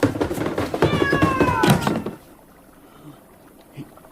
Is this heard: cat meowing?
yes